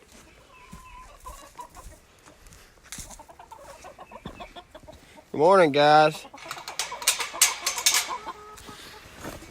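Chickens cluck and a rooster calls on a chicken farm in the morning, with a loud burst of crowing mid-clip among scattered farmyard clucks while someone speaks a greeting.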